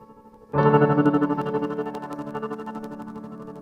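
The gate effect in the CS Spectral iOS effects app chops a sustained, rich synth tone into rapid rhythmic pulses, starting abruptly and loud, then slowly fading while the stuttering flutter continues.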